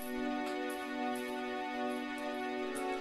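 A steady, buzzy pulse-wave synth tone with no LFO, held at one pitch, static and mechanical, with faint higher blips flickering above it.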